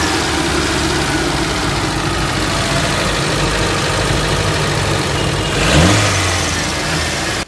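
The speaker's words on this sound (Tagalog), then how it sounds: "Pakiramdam natin yung makina kung okay ba." A Mitsubishi Lancer engine running after a cylinder head top overhaul, idling loud and close with a steady rough drone and one brief rev swell near the end, no talk.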